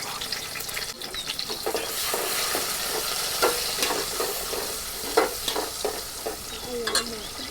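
Chillies sizzling and frying in a pan while dal is prepared, a steady crackle of hot oil with occasional stirring scrapes, close and continuous with no talk.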